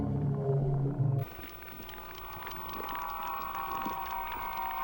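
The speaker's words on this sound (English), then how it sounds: "That sound, that eerie sound that you're hearing, that's what we recorded earlier, that's his calls" Recorded calls of a Basilosaurus, an ancient whale, played into the ocean through a massive underwater speaker, an eerie drawn-out moaning call that sustains over a dense, hissing underwater background.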